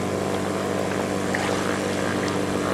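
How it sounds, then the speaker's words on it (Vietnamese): An amphibious propeller airplane flies over a lake with a continuous, loud droning engine roar that holds steady throughout. "máy bay, máy bay"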